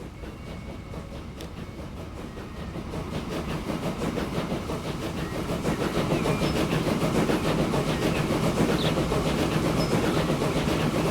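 A train in the video game Transport Fever 2 rolls along the rails with a steady clattering rumble that grows louder and fuller as it picks up speed, with no talking.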